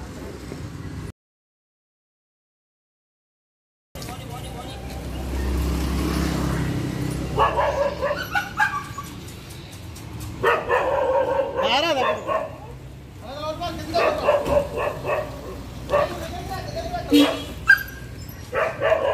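Dogs bark repeatedly in the street, with sharp yips and whimpers mixed in, near and loud under several people talking in Hindi.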